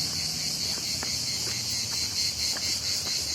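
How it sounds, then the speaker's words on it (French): Dense, steady high-pitched buzzing of many cicadas singing in trees on a dark evening, a continuous shrill drone filling the air with faint rustles and no talking. "Regardez, il y a plein de cigales."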